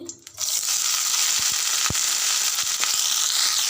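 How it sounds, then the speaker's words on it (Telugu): Spinach frying in oil in a kadai: after a short quiet start, a loud, steady sizzling hiss with occasional soft knocks of stirring. "ఇప్పుడు అదే కడాయిలో మరొక స్పూన్ ఆయిల్ పోసుకొని ఇప్పుడు పాలకూరను వేయాలి"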